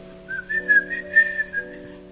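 A preacher at a Christian sermon whistles a short, wavering tune, imitating the Israelites whistling as they leave Egypt. The whistle is clear and close over a faint steady hum, with no words spoken.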